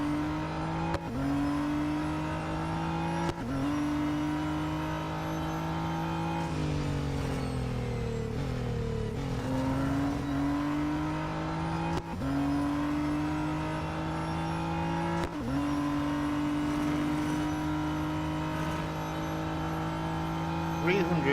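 A Radical RXC race car engine in the Real Racing 3 mobile game drones and revs continuously, its pitch climbing through gears and dropping sharply at each shift, several upshifts across a lap, with a voice talking over it.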